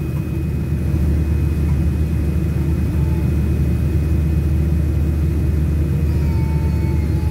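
Boeing 787-8 airliner turning onto the runway at London Heathrow, heard from inside as a steady, loud low engine rumble and hum that continues without a break.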